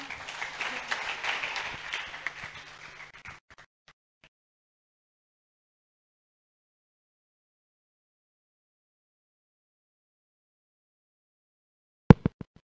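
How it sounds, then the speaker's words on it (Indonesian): Warm applause from an audience greeting a speaker at a Ramadan school program in Jakarta, a dense steady patter of many hands lasting a few seconds and then fading into near silence, with a few faint claps at the end. "kita sambut tepuk tangan yang meriah"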